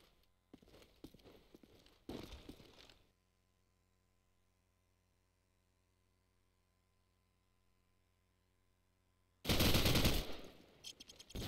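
Automatic gunfire bursts from Call of Duty 4 during a competitive match on a custom map, two loud sprays near the start, a long quiet stretch, then a very loud final burst.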